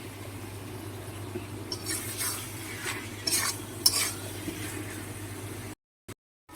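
Spice paste for a Malabar spinach and prawn curry being stirred and sautéed in a pan, with soft scraping strokes over a steady low sizzle, close and moderately quiet, ending in a few seconds of silence.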